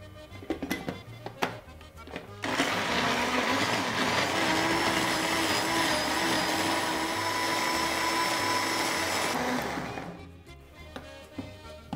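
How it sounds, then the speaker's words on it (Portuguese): Kitchen blender whirring as it mixes apples, eggs and oil for a cake batter, a loud steady high-pitched motor roar starting abruptly after some handling noises and running for about seven seconds before winding down. "Agora vamos tampar o liquidificador e bater."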